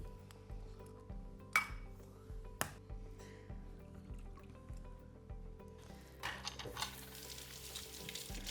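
Pumpkin pie filling of vanilla, salt, brown sugar, eggs and cream being whisked in a bowl, with soft steady stirring and occasional sharp clinks of the whisk against the rim, faint under low background music.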